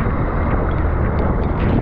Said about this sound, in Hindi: बहुत हवाओं के साथ बहुत तेज हवा है